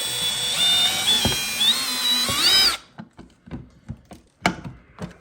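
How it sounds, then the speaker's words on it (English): A power drill with a larger bit bores through the plastic hull of a Native Watercraft Titan X 12.5 kayak, a close whining motor that rises and falls in pitch before cutting off, followed by scattered clicks and knocks. "now I just stepped up the drill bit just a little bit bigger after I drilled that pilot hole"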